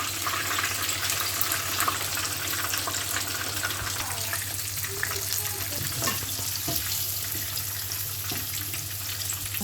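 Bangladeshi-style chicken kababs fry in a pan with a constant, dense sizzle and crackle close by, over a low steady hum, with no one speaking.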